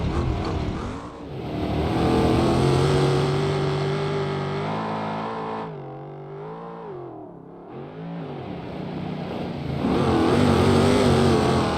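A truck engine in the driving game BeamNG.Drive, on an off-road desert course, drones and revs, pitch rising and falling as it accelerates, dips briefly, then climbs again, loud and continuous.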